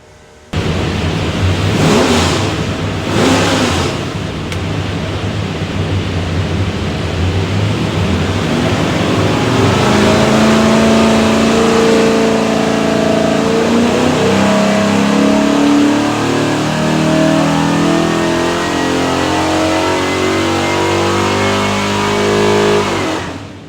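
Ford 347 V8 with hydraulic roller cam and front sump oil pan, built for a 1970 Mustang, revs up hard on a dyno in a loud, sustained pull after a couple of short blips, then winds down.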